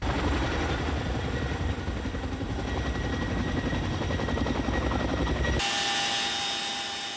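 A military helicopter in flight carrying special forces parachutists to a high-altitude jump competition, its loud steady rotor chop and engine roar filling the cabin continuously before cutting off abruptly near the end.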